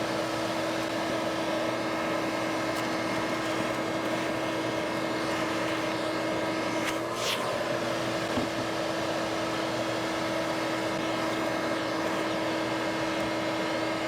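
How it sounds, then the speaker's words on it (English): A vacuum runs nonstop in a house while a large yellow jacket nest comb is broken apart and the wasps are sucked up. The motor drones at an even pitch throughout, with a brief whooshing catch around the middle. "I'm breaking apart the comb and I'm vacuuming up the adult"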